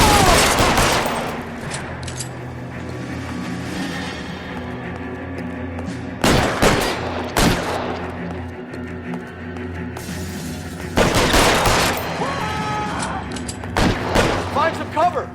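Loud gunfire crackles through a shootout in the L.A. Noire video game, with heavy bursts and shattering impacts landing in several waves among voices talking.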